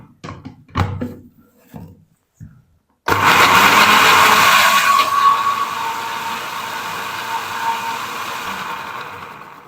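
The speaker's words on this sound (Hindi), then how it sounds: "इसको ना मोटा मोटा हम ग्राइंड कर लेंगे।" An electric grinder coarsely grinds garlic and ginger with a little water, switching on abruptly after a few soft kitchen clatters and then whirring loud and steady until the end.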